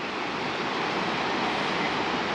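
Rivers rushing together at the Devprayag Sangam in Uttarakhand, where the Alaknanda meets the muddy Bhagirathi; a steady, loud, broadband roar of flowing water fills the whole stretch without a break.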